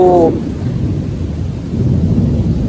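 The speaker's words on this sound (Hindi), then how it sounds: "यहाँ पे बादल बहुत तेज़ गरजते हैं" Deep thunder rolls as a loud, sustained low rumble outdoors in Malaysia, swelling again near the end after a brief tonal sound at the start.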